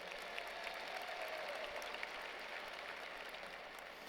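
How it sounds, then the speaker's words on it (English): Audience applause at a University of Memphis commencement ceremony, a steady, fairly faint wash of many hands clapping at a distance that holds evenly throughout. "that deserves some applause"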